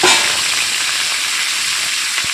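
Prawns sizzle and fry in hot oil in a wok, a loud, steady hiss close up that keeps an even crackling texture throughout.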